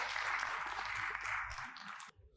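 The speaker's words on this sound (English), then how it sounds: "a round of applause" A fairly faint burst of audience applause at a health launch event as a business leader comes up to speak, steady for about two seconds before cutting off abruptly.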